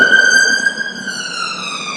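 An ambulance siren wails loud and close on a street in Ayr, Scotland, a strong steady tone that slowly drops in pitch as it goes by.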